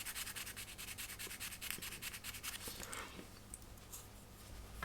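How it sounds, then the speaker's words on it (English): Sanding paper is rubbed lightly over a glued wooden part of a ship model kit. A quick run of close, scratchy back-and-forth strokes softens and slows toward the end. "I'm not even pressing on with the sanding paper, I'm just sort of rubbing it over the top"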